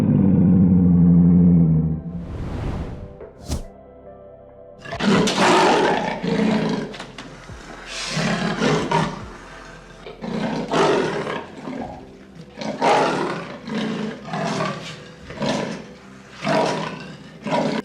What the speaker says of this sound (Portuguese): Leão. Lion.